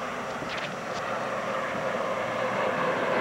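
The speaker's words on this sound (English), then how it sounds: "उसके बाद Puma helicopters की फॉर्मेशन" A formation of Puma helicopters flies over a Pakistani military parade, a steady, loud engine roar with no pauses.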